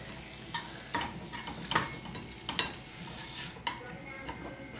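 Steaks browning on a cheesesteak griddle after being flipped, giving a steady soft sizzle broken by several sharp scrape-and-stir clicks of a spatula, close and moderately loud with no talking.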